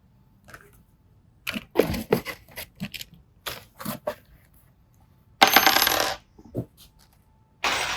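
Small metal screws from a DTF printer unboxing drop and clatter onto a hard surface in irregular bursts of sharp, bright jingles, close and loud, with a longer rattling pour near the end.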